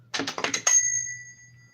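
An old, worn hand bell gives a quick flurry of about five rattling shakes, then one clear ring that hangs on and fades slowly, close up and alone.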